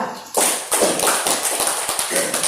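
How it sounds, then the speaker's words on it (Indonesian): Classroom audience applause for a student presentation group, a burst of many hands clapping nearby that starts abruptly and holds steady for a couple of seconds. "Kita berikan aplaus untuk kelompok 2."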